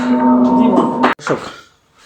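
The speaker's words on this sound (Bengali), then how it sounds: "এখানে একটা মা ছাগল না" A goat at a goat farm where Totapari goats and kids are sold gives one loud, close, drawn-out bleat, followed by a brief rougher cry that trails off.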